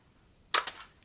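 Magazine dropping free from a Kodiak Defense WK180C Gen2 rifle after the AR-15-style magazine release is pressed: a sharp metallic clack followed by a couple of quick rattling knocks, close and alone.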